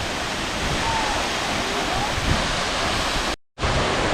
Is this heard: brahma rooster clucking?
no